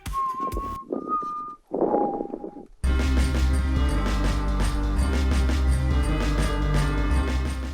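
A person whistles a short melody in three clear phrases for a piece of music, then layered instrumental music takes over loudly and plays on.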